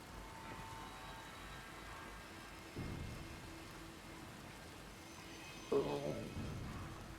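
Steady rain patters on a rooftop in a video game, a continuous soft hiss throughout with a couple of brief louder thumps, while people talk over it.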